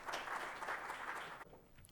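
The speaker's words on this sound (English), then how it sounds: "A warm round of applause for Mr." An audience at a corporate event applauds to welcome the Group CEO with a steady wash of clapping. The applause is fairly faint and distant, then drops off abruptly near the end.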